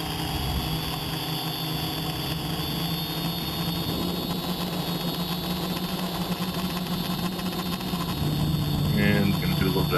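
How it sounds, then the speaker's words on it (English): A DJI Flamewheel quadcopter with a Naza flight controller races past at speed, its motors and props giving a loud, steady, buzzing whine with rushing wind noise that swells slightly near the end. "Imagine the quad's probably doing around 50 miles an hour there, maybe close to 60."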